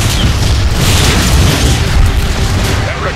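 Massive cannon fire from Transformers: Fall of Cybertron roars loud and sustained, a dense booming explosion wash with deep rumble and crackling debris throughout, close and overwhelming.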